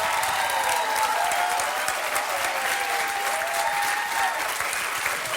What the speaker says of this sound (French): continuez à l'applaudir